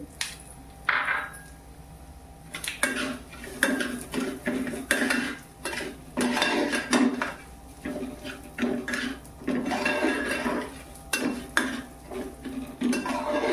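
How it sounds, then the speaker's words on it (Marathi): Broken wheat (lapsi) roasting in ghee in a pan for a homemade lapsi, with a spoon repeatedly scraping and clattering against the metal in irregular close knocks and scrapes, no voices. "ही लापसी आहे, ही आता आपण तुपात भाजायची।"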